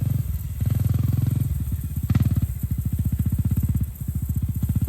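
A Honda CRF250L dual-sport motorcycle engine runs close by with a steady low throbbing beat. The pitch rises and dips unevenly as the throttle twists, with no talk over it.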